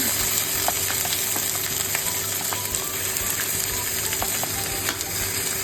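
Chicken pieces frying to light brown in oil for sinampalukang manok, a steady, continuous close sizzle with scattered crackles and no talking.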